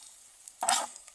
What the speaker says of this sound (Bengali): এখন মোরা দিমু পাতাকপি।